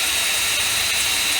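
Steady high-pitched whine of a power drill boring a drainage hole into the base of a ceramic flower pot, continuous and close, with no talking.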